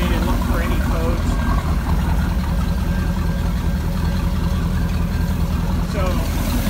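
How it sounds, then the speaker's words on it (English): Mercruiser late-model marine engine running on a test stand in a shop, a steady low rumbling idle with constant loud drone and some faint background voices. "So we always like to run our engines before we put them into customers' boat."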